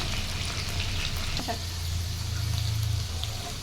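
Okra slices frying in oil in a pan for a crispy okra fry, a steady close sizzle and crackle with a brief clink partway through.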